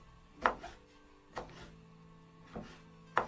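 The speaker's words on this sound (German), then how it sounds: "Die wird jetzt einfach nur noch mal ein bisschen kleiner geschnitten." Cress being chopped with a knife on a cutting board, four distinct sharp thuds spaced unevenly about a second apart, close up with a faint background hum.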